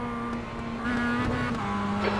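A Mazda race car in iRacing, on the Summit Point Jefferson Circuit, drones steadily with a sustained engine tone that shifts slightly in pitch as another car closes and passes alongside.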